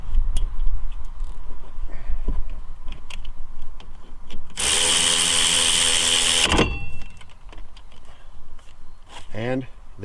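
A power tool whirs loudly for about two seconds, driving the brake caliper slider pins back in with a 14 mm socket during a full brake job on a 2001 Buick Regal, amid shop noise and talk.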